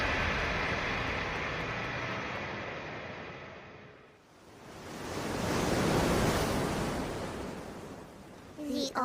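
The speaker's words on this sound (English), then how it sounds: "The ocean? I can't believe there's a beach in here." Ocean waves wash onto an indoor beach in an anime dungeon, a broad hiss of surf that rises, dips, then swells again, loud and close.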